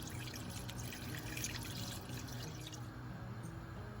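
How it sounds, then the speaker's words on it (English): Water pours steadily into a cooking pot over chicken pieces for a chicken wonton noodle soup, making a continuous, even splashing and running sound with no talking. "Add in some water now. Just add enough until your chicken becomes submerged in the water."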